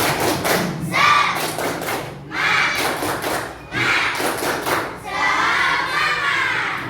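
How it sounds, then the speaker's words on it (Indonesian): A school class claps the rhythmic "tepuk semangat" chant together, with bursts of clapping in a patterned beat that repeat several times, close and loud, with children's voices mixed in. "kita tepuk semangat dulu yuk, sama-sama. Tepuk semangat."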